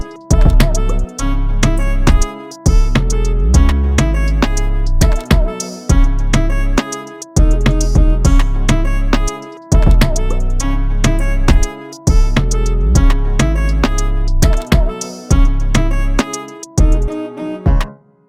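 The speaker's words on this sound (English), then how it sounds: "For beats like this, the drum and the bass should sound like a complete beat." A loud dancehall beat built in FL Studio, with punchy drums and heavy bass pulsing in a steady, syncopated groove. It repeats in short bars with brief gaps between phrases, and no one speaks over it.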